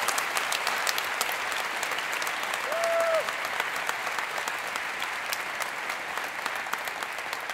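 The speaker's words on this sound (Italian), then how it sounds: "Facciamo un applauso a Luca che è coraggiosissima." Steady applause from a crowd fills the whole stretch, even and sustained, with a brief high tone sounding partway through.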